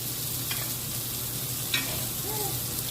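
A steak sizzles in a cast iron skillet while butter is spooned over it, a loud steady frying hiss with a couple of brief clinks and spatters and no talk.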